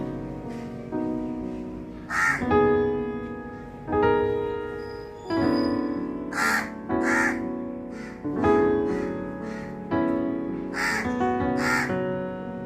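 Several crows caw loudly and close by after being fed rice, harsh calls repeating in bursts every second or two and sometimes overlapping, with no talking.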